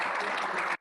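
A short, dense burst of audience applause, loud and close, lasting under a second before cutting off abruptly.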